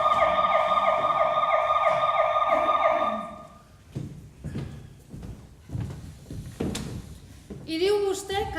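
A police car siren wails loudly with a steady, repeating tone for about three seconds. It then stops abruptly and voices talk over a quieter room.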